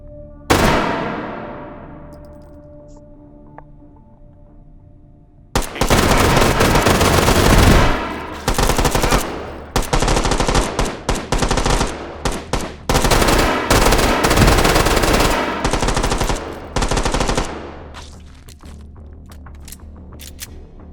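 Automatic turret in the VR shooter H3VR, Take and Hold mode, opening up with sustained rapid bursts of loud gunfire after a few seconds of a quieter ringing decay, firing continuing in dense volleys with short gaps.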